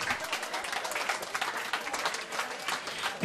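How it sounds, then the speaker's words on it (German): Applause from an audience at an Austrian TV event: a dense, crackling spread of many hands clapping at once, lively and sustained from start to finish with no break. "Das ist ein Applaus wert."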